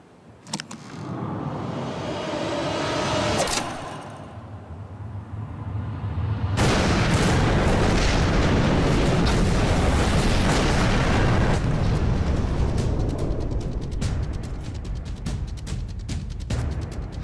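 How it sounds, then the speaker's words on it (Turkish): A deep, heavy explosion booms out and rolls into a long, roaring rumble that slowly fades, with crackling debris throughout. "Kumandanım Yunan cephesinde patlama oldu."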